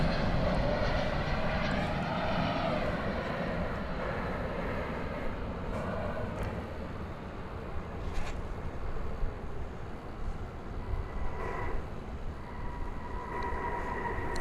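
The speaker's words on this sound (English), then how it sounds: "We just saw American flight 556 coming in from Phoenix, an Airbus A321" An American Airlines Airbus A321 arriving from Phoenix at DFW Airport at night produces a steady, moderately loud jet engine roar with a faint whine, heard alone without talk.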